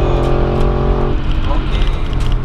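A C5 Audi Allroad 4.2 V8 pulls hard in second gear from the cabin, its deep engine drone loud for about a second before dropping away as the throttle eases, with road noise beneath.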